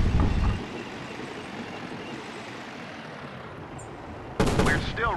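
Vehicle gunfire in the tank combat game Battle Supremacy, with a loud burst at the start, a lull of low engine rumble, then another loud burst of firing near the end.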